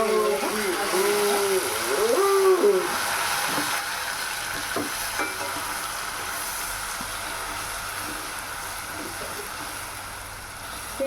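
Ginger and onion fry in a hot pan, a steady hiss with stirring scrapes at the start, and someone talks over the sizzle for much of the time.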